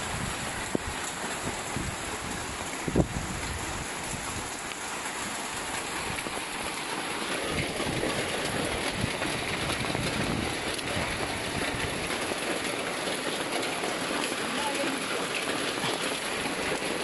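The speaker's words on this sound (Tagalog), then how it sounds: "Ganito po kalakas ang bagyong Ulysses. Oh, lakas ng hangin." Typhoon Ulysses brings strong wind and heavy rain, a continuous loud roar and wash that builds slightly midway, with a brief clunk near the start and no clear talk.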